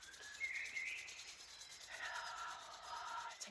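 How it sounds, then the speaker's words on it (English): Hands rub briskly together during a seated chair yoga flow, a soft continuous dry friction sound that swells and eases, close and quiet with no talk. "And we're going to rub those hands."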